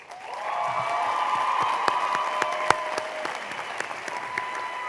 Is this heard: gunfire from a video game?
no